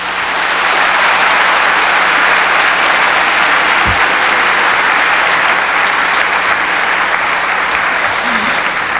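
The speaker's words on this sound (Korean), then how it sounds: "여러분 다시 한번 큰 박수를 부탁드리겠습니다" A large audience applauds steadily after a special lecture by President Roh Moo-hyun at the Venture Korea 2007 event, a dense, continuous wash of clapping that holds evenly throughout with no pauses.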